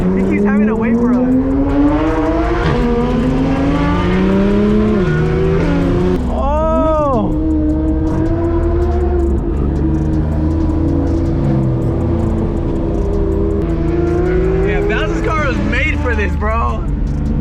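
A twin-turbo Lamborghini and a Nissan R35 GTR driving hard through a canyon, engines droning loud and close with rising revs and a sharp sweep of acceleration midway, while people talk over the noise inside the car.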